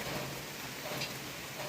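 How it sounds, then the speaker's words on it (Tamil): Heavy rain falls at night in deep jungle around a watchtower in Periyar, a steady dense hiss with no breaks and faint distant rumbling underneath. "கொஞ்ச நேரத்துக்கு அப்புறம் எந்திரிச்சு பார்க்கும்போது நல்லா மழை பெஞ்சிட்டு இருந்தது."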